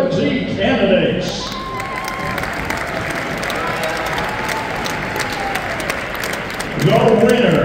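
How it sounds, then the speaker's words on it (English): A crowd applauds the 2024 homecoming royalty winners with a broad, sustained wash of clapping and light cheering, while an announcer's voice speaks over it at the beginning and again at the end. "Fans, now let's all join in with a huge round of applause for your 2024 winner, Homecoming Royalty candidates"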